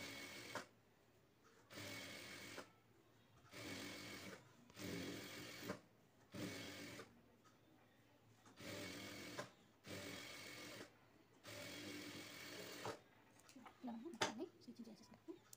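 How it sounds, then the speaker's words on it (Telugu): Sewing machine stitching a doormat made from an old cotton nighty in a square pattern, quiet close whirring in repeated short runs of about a second each, separated by pauses, with fabric handling at the end. "ఇలా మొత్తం స్క్వేర్ షేప్ లో స్టిచ్చింగ్ చేసుకోవాలి"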